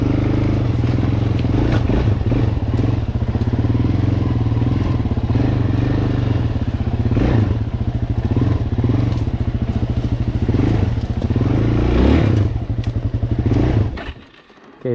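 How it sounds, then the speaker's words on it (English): A motorcycle holds a loud, sustained engine roar during a burnout in a swamp, with rough thumps and clatter throughout, before cutting off abruptly near the end. "okay, let's do the burnout now"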